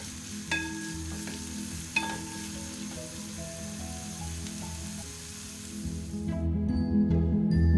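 Pork sautéing in a pan for a pork fry cooked without deep-frying, a steady close sizzle with a few sharp clinks of stirring near the start, the frying growing louder and busier toward the end.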